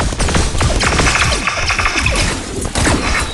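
Rapid bursts of gunfire-like shots and clicking mechanical effects from a character attacking in the CHROMA Legends card game on a smartphone, loud and dense throughout with no talk.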